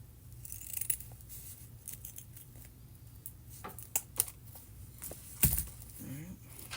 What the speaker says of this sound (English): Now this we're going to cut it down